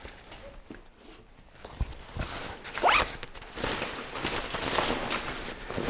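A backpack lid zipper is drawn open in a quick rasping pull, surrounded by soft fabric rustling and handling noises close by.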